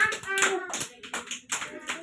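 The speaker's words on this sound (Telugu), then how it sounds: "పిల్లలు అందరూ క్లాప్స్ కొట్టండి" Children clapping their hands at an Anganwadi preschool, a ragged burst of claps with a voice and chatter mixed in, close and fairly loud.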